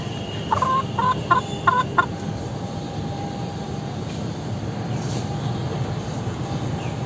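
Silkie chickens, a male and a female, give a few short clucking calls close by in the opening two seconds, then fall quiet over a steady low background rumble.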